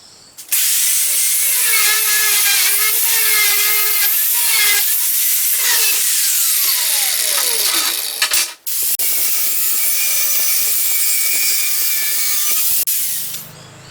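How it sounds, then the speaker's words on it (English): An angle grinder cuts through steel stock, giving a loud, close, harsh whine with a shifting pitch that stops briefly around the middle and then resumes until near the end. "I can now sever the stock with an angle grinder into two shorter pieces for further processing"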